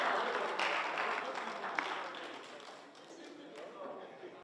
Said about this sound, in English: can we give a round of applause to him once again?